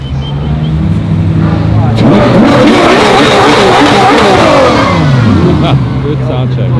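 Ferrari engines revving loudly as cars leave a big car meet in Aarberg, a continuous close roar with rising and falling revs as vehicles pass, with a crowd talking underneath.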